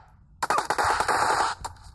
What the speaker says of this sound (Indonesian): Kita tembak.